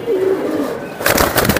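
A large silver male pigeon, bigger than a hand, gives a loud, close, low coo, followed by a brief rustling burst of noise near the end.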